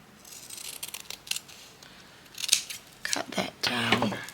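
Scissors snipping tape at close range during a craft project, giving a cluster of sharp metallic snips and rustles toward the end after quieter handling noises.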